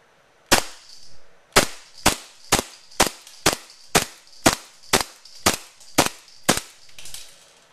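A WE 1911 MEU gas airsoft pistol fires about eleven sharp, loud cracks at a target in a steady, measured rhythm. A brief hiss of gas follows each shot, close by, with no talking.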